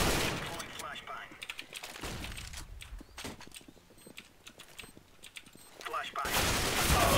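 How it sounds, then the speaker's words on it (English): Gunfire and a flashbang in a bomb-planting video game match: broadband bursts open and close the stretch, with rapid scattered shots and clicks between them and voices mixed in. "Deploying flashbang."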